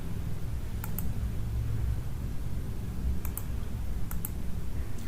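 Several sharp computer mouse clicks on a Windows 11 PC, two close pairs and then a couple more, crisp and near against a steady background hum.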